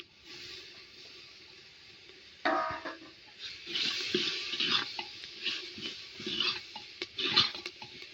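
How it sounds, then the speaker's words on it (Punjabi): Tomatoes roast with red chili and garam masala in a pan for a chana dal and bottle gourd curry, a quiet hiss with scraping and stirring clatter and a few sharp utensil taps, no voices. "ਦੋ ਮਿੰਟ ਆਪਾਂ ਟਮਾਟਰ ਨੂੰ ਇਸੇ ਤਰ੍ਹਾਂ ਭੁੰਨ ਲੈਣਾ ਹੈ"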